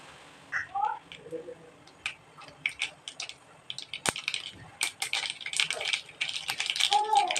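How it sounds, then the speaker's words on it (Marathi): Mustard seeds crackling and popping in hot oil in a kadhai on a gas stove, sharp irregular snaps building denser toward the end, with a voice speaking briefly. "बघा आपली मोहरी तडतडत आली."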